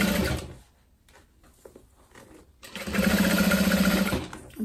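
A sewing machine stitches a pocket into the seam allowance of a zip top tote, its motor humming steadily in two clear runs with a quiet gap of light handling noise between them.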